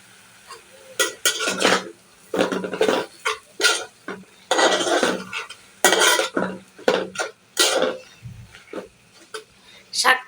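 Red amaranth greens with small fish are stirred in a pan, with repeated clattering scrapes of a utensil against the metal and a faint sizzle underneath, in irregular bursts.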